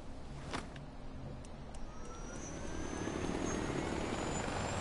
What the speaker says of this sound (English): let's get on the chopper